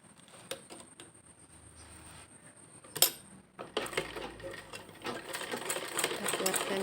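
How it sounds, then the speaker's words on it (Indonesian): A sewing machine stitches elastic into a waistband: a few light clicks and handling knocks first, then the motor starts up into a steady, fast rattling hum that grows slightly louder toward the end. "Lanjut kita jahit."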